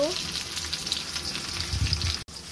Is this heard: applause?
no